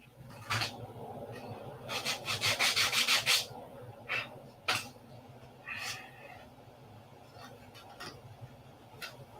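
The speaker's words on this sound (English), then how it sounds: "And you have to sand a little bit there off." A small part for a P-47 scale model is hand-sanded in close, quiet strokes: one quick burst of rapid rubbing passes, then scattered single scrapes, with no talk.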